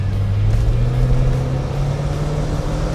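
A 1971 Ford Mustang Mach 1 with a 429 engine accelerating, its deep steady roar loud and close, holding a constant low tone throughout with no voices.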